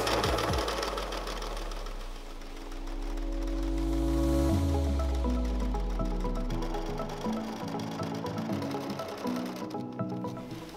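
A sewing machine stitches straight across the valley of a quilt's scallop binding edge, running in a continuous, even motor whir with rapid needle chatter for the whole stretch.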